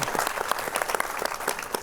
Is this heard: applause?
yes